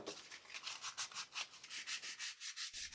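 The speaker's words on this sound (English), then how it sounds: "Next, I snipped the wires and did a final course of sanding." Handmade wooden carving knives with saw-blade steel get a final hand sanding, a close rhythmic back-and-forth rasp of about a dozen even strokes, faint and alone.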